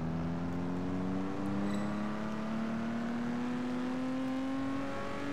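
Engine of a car in the racing game Test Drive Unlimited 2, a steady rising drone as it pulls past another car, loud and continuous for the whole stretch with no talk over it.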